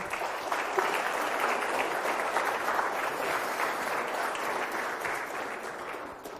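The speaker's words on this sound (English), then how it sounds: "Let's get a round of applause for Brandon" A round of applause from an audience at an industry talk, welcoming an associate artist from Treyarch; dense, steady clapping sustained for about six seconds at moderate level, with no voices over it.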